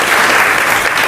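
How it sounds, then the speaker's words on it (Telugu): Loud, dense clapping from a church congregation during a prayer service, a short burst of sustained applause filling the space. "గట్టిగా చప్పట్లు కొడదామా?"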